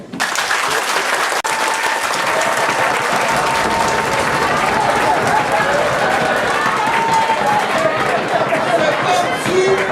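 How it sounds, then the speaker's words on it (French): A French-speaking crowd applauds in a loud, dense, continuous wash of clapping with cheering and voices mixed in, sustained without a break. "Applaudissez!"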